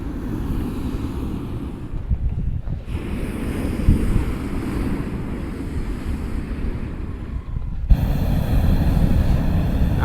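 Wind gusts steadily outdoors in Vang Vieng, Laos, a continuous rushing roar buffeting the microphone with brief lulls, loud and close throughout.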